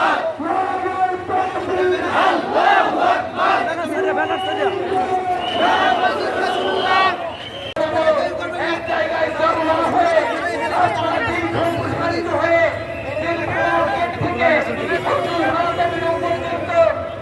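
A large protest crowd at a Gaza solidarity human-chain rally in Bangladesh chants loudly and in unison, with many voices rising and falling together over a continuous roar of crowd noise and chatter.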